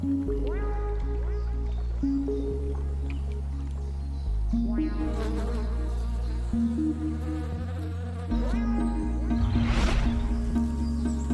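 Honeybees buzz in a steady insect drone that runs through the whole stretch, sitting under a layered musical bed with a brief swell near the end.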